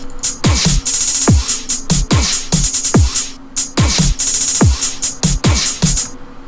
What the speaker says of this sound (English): And then I have an accent snare.